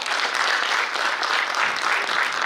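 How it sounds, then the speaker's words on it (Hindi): An audience at a live comedy or stage performance claps steadily, a dense, even burst of applause with no voices over it. "ताली एक बार और बजा दीजिए।"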